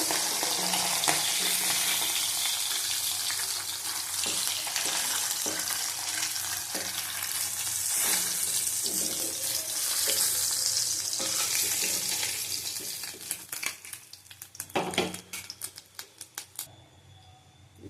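Nigella seeds crackle and sizzle in hot oil in a pan, a dense, steady hiss that runs throughout, with a few sharper clicks and pops near the end.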